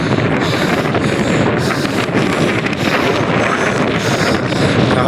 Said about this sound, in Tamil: காற்று சில்லுன்னு வருது.